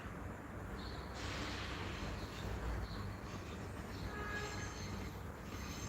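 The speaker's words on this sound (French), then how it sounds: "là c'est la partie où les trains partent" A train departing a station in Bordeaux rumbles and rolls along the tracks at a distance, with a steady low roar and faint high squeals from the wheels.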